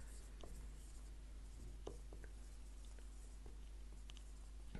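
A teacher writes by hand during an English grammar lesson, the pen or chalk producing soft, scratchy strokes and light taps over a steady background hum, faint and continuous with no talking.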